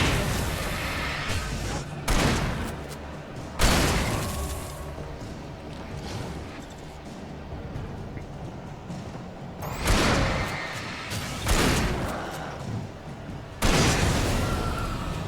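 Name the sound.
pump-action shotgun fire in the video game Alan Wake Remastered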